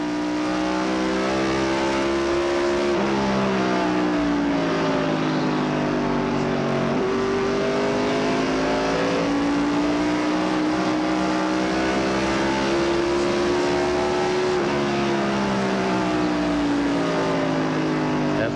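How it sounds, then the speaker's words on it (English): NASCAR Winston Cup stock cars racing at Richmond International Raceway in 1996, a loud continuous roar of engines rising and falling in pitch as cars run the oval together, with no talk over it. "We see the green car has just gone past the 4 car of Sterling Marlin, taking a spot away"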